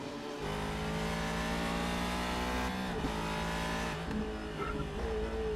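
A Ford GT40 race car engine in a GT3 racing video game drones steadily at sustained high revs, loud and continuous, with a brief dip in pitch partway through as if shifting.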